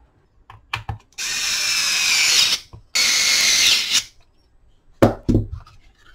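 A salvaged DeWalt 20V Max blower motor whirs in two sustained bursts of about a second and a half each, preceded and followed by short clicks and brief spin-ups, loud and close with no talking.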